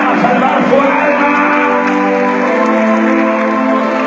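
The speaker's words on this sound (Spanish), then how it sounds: "Aplauda, aplauda los que van a salvar su alma." Church congregation applauding and cheering during a sermon, a dense, loud, sustained roar of clapping mixed with whoops and shouts.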